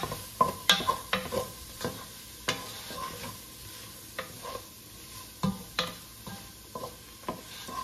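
Sausage sizzling in a pan, a steady close frying hiss broken by regular scrapes and taps from stirring.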